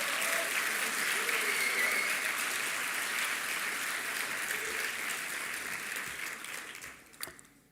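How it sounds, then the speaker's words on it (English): Sustained applause from a commencement ceremony audience, a dense, steady clapping that holds for several seconds, then thins and fades out near the end. "Can we also get a round of applause for them?"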